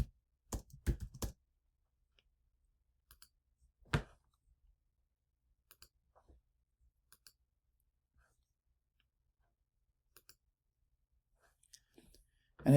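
A computer keyboard clicks in sparse, irregular keystrokes, a quick cluster early and scattered single taps later, close and quiet in an otherwise silent room.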